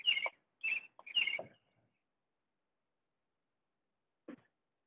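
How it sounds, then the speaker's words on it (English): Birds chirping outdoors near hanging baskets: a quick run of three or four bright, close chirps, then silence and one brief fainter call near the end, with no voices. "We can hear the birds"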